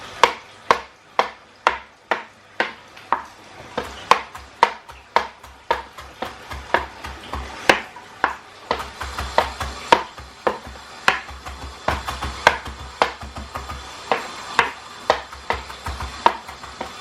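A knife finely chops fresh parsley on a board with steady, close, crisp strikes, around twenty chops in a brisk, even rhythm with no voices.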